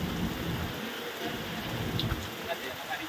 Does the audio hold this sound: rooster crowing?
no